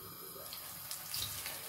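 Cold water runs steadily from a kitchen tap while Isabella grapes are rinsed, a soft continuous hiss with faint splashing throughout.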